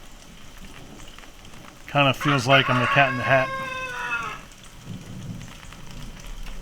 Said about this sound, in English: Just a gross rainy day.